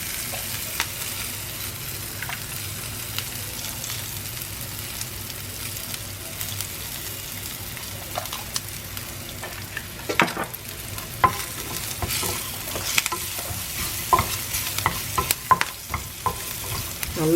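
Chillies, curry leaves, garlic and turmeric tempering in hot oil, a steady soft sizzle with occasional stirring clatter, faint and continuous with no talk.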